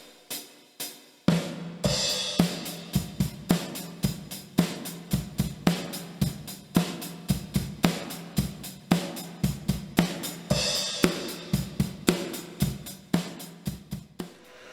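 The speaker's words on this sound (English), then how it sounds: "last episode we did drums on the Cheap with one microphone" Drum kit captured with a single microphone, playing a steady groove of kick and snare hits with crashing cymbal washes, loud and close, without voices.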